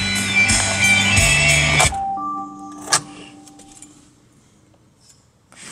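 A 2017 Hyundai Sonata Sport shuts off: the engine hum stops abruptly, followed by a brief electric whir, a single click and quiet cabin ambience.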